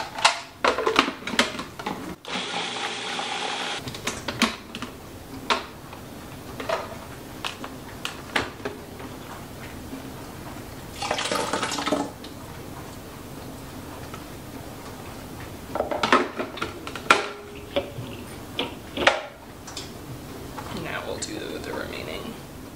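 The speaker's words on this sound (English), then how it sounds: "the sound of this spoon on this pot is horrible" A metal spoon stirs and scrapes inside a pot of peppers, giving irregular sharp clicks and scrapes in bursts, mixed with a low voice.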